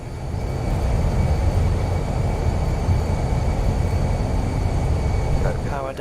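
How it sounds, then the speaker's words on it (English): Airbus A320 in Microsoft Flight Simulator rolling out after landing with thrust reversers engaged, a loud steady broadband engine roar that holds constant before easing slightly at the end. "Keep the reversers on till we get down to around 70 knots."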